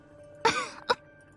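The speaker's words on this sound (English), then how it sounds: "her cough cut her off" A video game character's throat-clearing cough, one rough burst followed by a short second cough, close and isolated.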